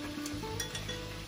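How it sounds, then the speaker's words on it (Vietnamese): A pot of crab roe simmering on a stove bubbles and sizzles softly in a steady, close texture, with a light clink or two of a utensil against the pot and no voices. "Khi gạch cua mình đun sôi lên như thế này rồi thì mình sẽ giảm lửa nhé cả nhà"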